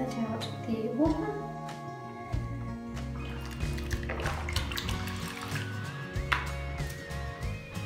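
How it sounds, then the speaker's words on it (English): Water draining out of a container after washing LPS toy figures, a trickling, gurgling flow with drips and clinks alongside a low background hum. "I'll let out the water"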